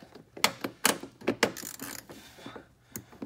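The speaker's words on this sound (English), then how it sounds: "And then you just take your socket wrench." A socket wrench ratcheting as bolts are tightened on a snowmobile sled while mounting a tunnel box, an irregular series of close metallic clicks and clunks.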